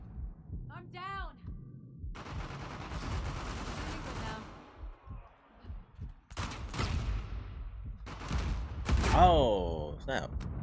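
Gunfire and explosions in an Uncharted multiplayer match, bursts of shots and blasts scattered through the stretch with a player talking over them.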